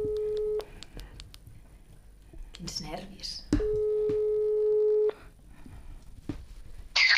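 A mobile phone on hands-free plays its ringing tone: steady repeated beeping tones with gaps, loud and close, while people talk over and between the rings.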